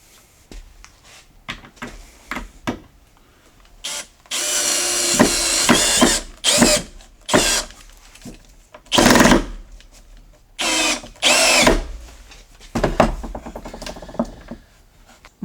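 A power drill drives screws into a wood French cleat panel in repeated bursts of whirring, some long and some short, separated by quiet pauses; close and loud, with no talking.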